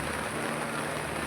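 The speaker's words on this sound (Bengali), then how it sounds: "বৃষ্টি তো হয়েই যাচ্ছে" Steady rain pours down at a village temple during a puja festival, a dense, even hiss of drops striking surfaces without any break.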